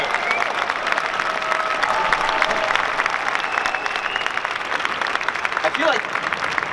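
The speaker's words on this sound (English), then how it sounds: "A big round of applause for all of our cosplay contestants here for the first ever Dreamhack Hannover" At the Dreamhack Hannover cosplay championship, a crowd applauds the contestants with steady, dense clapping and cheering that fills the hall throughout, while voices carry over it.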